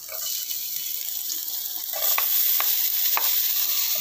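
Garlic sizzles as it sautés in a hot pan, a steady crackling hiss that grows louder partway through, with a few light clinks of a utensil stirring.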